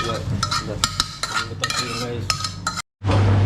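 A spoon stirs and mixes coffee in a cup in a small room kitchen, giving quick rhythmic metal clinks against the rim, then a brief silence and a low steady hum.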